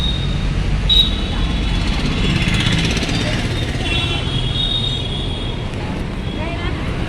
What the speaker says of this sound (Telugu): చూడండి ఫ్రెండ్స్, ట్రాఫిక్ అయితే ఎక్కువ ఉంది